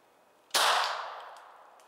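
A single sharp shot from a hunter's signal device fired horizontally cracks loudly, then trails off into a ringing decay, with near silence before it.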